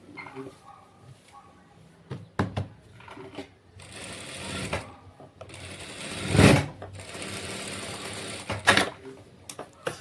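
A sewing machine stitches a silk saree frock in short, uneven bursts of whirring, some of them loud and close, with fabric handling and quiet gaps between runs.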